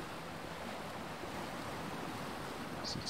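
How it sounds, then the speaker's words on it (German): Surf rushing steadily onto a shore in the video game Odyssee – Im Auftrag des Königs, an even, unbroken wash of noise heard alone at moderate loudness. "Die Brandung rauscht."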